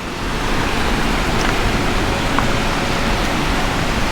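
Steady, loud rushing water pours without pause through a rock chute, a dense broadband roar like a torrent running close by.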